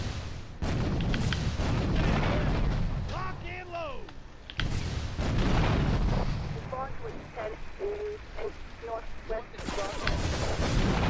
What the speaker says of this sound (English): I'm gonna shoot my rocket launcher at them as soon as they drive over.